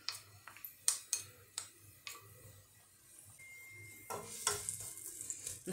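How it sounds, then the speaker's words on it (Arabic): Chopped leek and onion frying in olive oil: a soft, low sizzle broken by sharp clicks and scrapes of a utensil stirring the pan. "نخليهم يتقلاو مزيان"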